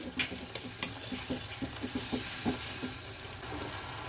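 Coriander-cumin powder and chilli powder stirred in a frying pan for a village-style radish and potato curry, a steady sizzle with repeated soft scraping strokes of a spoon against the pan.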